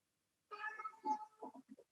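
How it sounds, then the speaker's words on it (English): A domestic cat meows faintly in the background of a quiet indoor room: one drawn-out meow followed by a few short chirping mews, with no speech. "My cat is in the background here."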